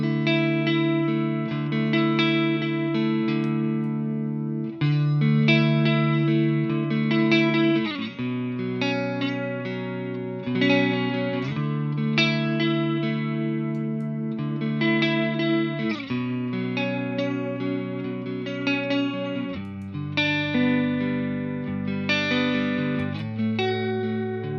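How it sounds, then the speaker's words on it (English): An electric guitar runs through a Fender Bubbler chorus pedal, strumming sustained chords with a shimmering, wavering chorus that shifts between slow and fast modulation, played continuously and up close without talk. "let's check out the slow and fast sounds of the bubbler"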